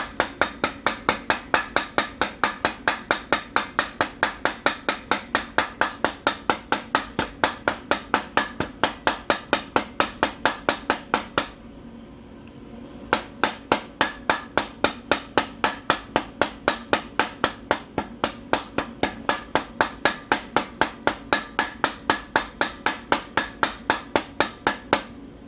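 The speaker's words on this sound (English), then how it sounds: "now we're tapping on the inside towards this funnel" A hammer taps steadily against the inside of a water pump part on a 2006 Mazda 6 3.0L, sharp metallic strikes in an even, rapid rhythm close by, pausing once for about a second before resuming at the same pace.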